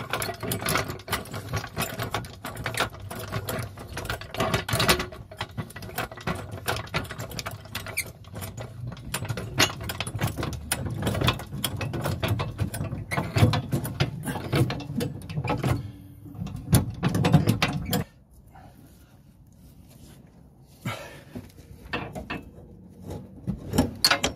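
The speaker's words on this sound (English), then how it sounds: "now you have to jack the van up to release the pressure on the shackle pin bolts" A jack raises a Ford Transit camper van during a broken rear spring repair. Close, rapid mechanical clicking and ratcheting runs steadily for most of the clip, then cuts off and leaves only sparse, quieter clicks.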